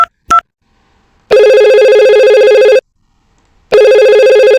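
An IP telephone rings after VLAN setup, starting with two short dialing beeps and then two loud, close electronic ring bursts of about a second and a half each, separated by silence.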